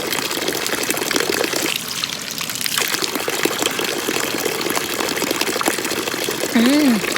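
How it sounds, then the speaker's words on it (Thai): Forest stream water running steadily in a quiet woodland area, a continuous near rushing wash with voices talking over it and a brief whistle-like tone near the end. "เขาบอกน้ำจากในป่าทางนี้ดื่มได้นะคะ"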